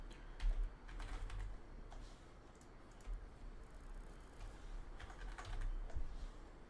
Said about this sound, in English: I have to type this out.